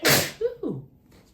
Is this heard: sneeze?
yes